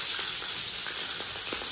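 Green peppers stir-frying in a wok or pan produce a loud, steady hiss of sizzling oil, with soft scraping stir sounds faintly underneath.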